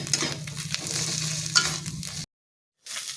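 Kharkol leaf paste is stirred and scraped in a wok, giving a continuous close sizzle and soft scraping that stops abruptly into silence, then resumes briefly.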